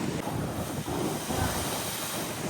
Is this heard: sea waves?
yes